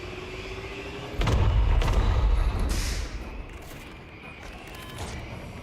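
Rapid volley of multi-cannon fire from a ship in a space combat video game, heavy thudding bursts for about two seconds, then fading into a lower rumble of game ambience.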